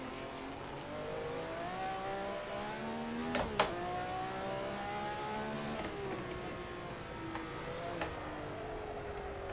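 A Ferrari 312 race car in a racing game at Zandvoort, its engine whining and climbing through revs, with a few quick shift blips and a steady high drone, moderately quiet with no talking.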